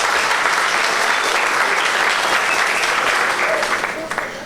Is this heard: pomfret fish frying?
no